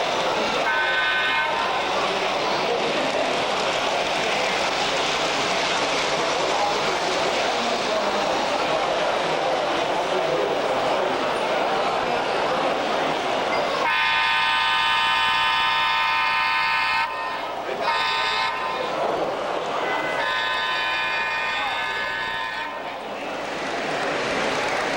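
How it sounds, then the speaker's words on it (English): A model Christmas train led by two Maine Central locomotives rolls steadily along its track at a museum display, giving a continuous rumbling run with a brief horn-like toot partway through and faint background voices. "You can see our Christmas train coming, again, with the Maine Central, the two locomotives, Maine Central."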